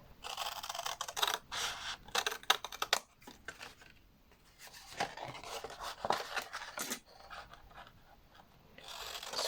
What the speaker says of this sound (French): Et là, on va couper tout du long de ce côté-là